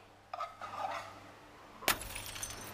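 A framed picture falls indoors in a home and its glass breaks with a sharp crash. Smaller clinks and tinkling shards follow, with some faint rustling just before. No one speaks over the sound.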